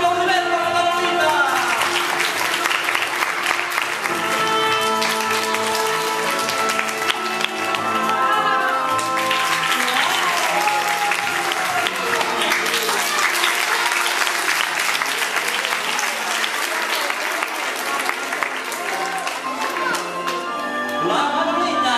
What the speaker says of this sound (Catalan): Un aplaudiment per la Manolita!